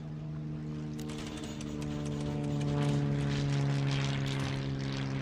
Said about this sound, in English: Damn planes. Really noisy in this.